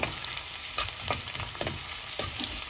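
Green chilli with ginger and garlic fries in a hard-anodised pan while making Kerala prawn masala, a steady close sizzle broken by occasional stirring scrapes and clicks, no talking.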